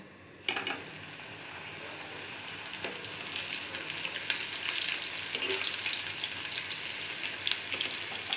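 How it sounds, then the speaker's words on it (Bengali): Cut nimki dough pieces drop into hot oil and the pan bursts into sizzling after a brief quiet moment, then a steady, bubbling deep-fry hiss continues with small crackles throughout. "নিমকি কাটা হয়ে গেছে, এবার ভাজবো। এবার দিচ্ছি কটা।"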